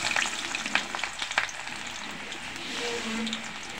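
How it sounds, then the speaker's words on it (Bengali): Chopped onions fry in hot oil in a wok, a close crackling sizzle with sharp pops early on that settles into a softer, steady hiss, with no talking. "পেঁয়াজটা আমি একটু ভেজে নিচ্ছি"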